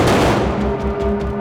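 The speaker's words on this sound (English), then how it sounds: "We have a mortar and a propane popper right down here, and we just been throwing debris and fire" Film-set pyrotechnic explosions from a mortar and a propane popper, throwing debris, fire and sparks: a loud booming blast followed by dense rumbling, crackling bursts in quick succession.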